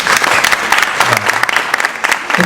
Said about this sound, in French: et de les applaudir.